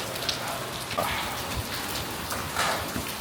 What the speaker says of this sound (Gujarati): અમદાવાદમાં સવારમાં જો વરસાદ કેવો ચાલુ થઈ ગયો છે.